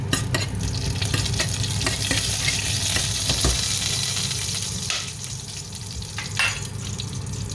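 Fennel, cumin and mustard seeds tempering in hot oil for a beef dish, a dense, loud, continuous sizzle and crackle close up, with a few brief stirring scrapes and no talking.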